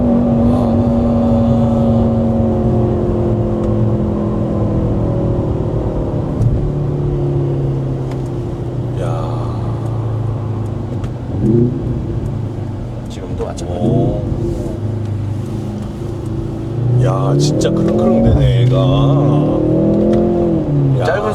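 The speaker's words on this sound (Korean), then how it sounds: "이렇게 이제 엔진 브레이크로 속도를 줄이는 거죠" A Mercedes-AMG slows under engine braking after a downshift, its exhaust droning loudly with falling, then rising engine pitch and a few crackling bursts, while people talk inside the car.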